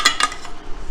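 A serving spoon scrapes and clinks against a heavy pan while dishing out sweet potato zucchini casserole: a few quick, close metallic taps in about a second, with no talk.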